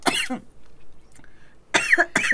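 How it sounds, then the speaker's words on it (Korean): A person coughs sharply, once at the start and twice more near the end, loud and close, with quiet room tone between the bursts. "아 죄송해요, 제가 기침이 요즘 심해가지고"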